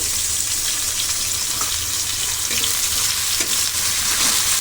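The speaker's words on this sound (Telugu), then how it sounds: "బీరకాయలతో పాటు టమాటాలు కూడా మగ్గిపోతాయి" Ridge gourd and tomatoes cook in a pan with tamarind, giving a steady, close sizzle and fry hiss with occasional stirring scrapes throughout, no voices.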